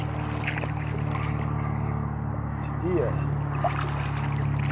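An old seaplane engine passes over a river while a kayak paddles along, its steady drone heard in the background with the water under people talking in French.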